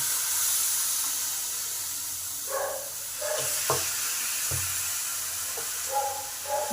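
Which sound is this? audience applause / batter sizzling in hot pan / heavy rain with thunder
batter sizzling in hot pan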